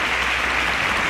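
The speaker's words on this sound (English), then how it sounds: "Please, a round of applause for them as they exit the stage." A competition-show audience applauds as contestants leave the stage, a loud, dense wash of clapping that fills the whole moment without pause.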